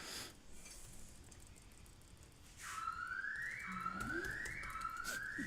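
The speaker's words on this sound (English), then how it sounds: "We have an alarm here that goes off very often." A recurring electronic alarm goes off during a rapid chess championship broadcast, a faint hiss giving way to rising and falling siren-like tones that sweep and repeat over the last half, with no speech.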